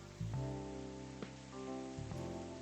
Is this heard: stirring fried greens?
no